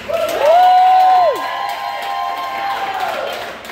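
An audience at a women's wine night comedy show at an axe-throwing venue cheers and claps loudly in a short burst, with a rising whoop before the noise settles into a sustained crowd roar.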